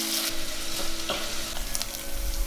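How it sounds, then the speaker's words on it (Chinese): Garlic and minced pork belly stir-frying in a hot wok with a little oil, a steady dense sizzle with occasional scraping stirs, close and continuous throughout. "先把蒜蓉放下来炒香，然后把剁好的五花肉放进来"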